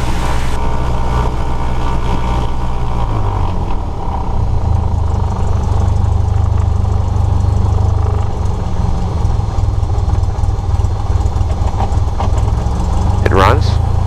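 A light aircraft piston engine idles and runs up before takeoff on a runway, a loud steady droning rumble with a shift in pitch partway through, while a voice talks over it through much of the clip.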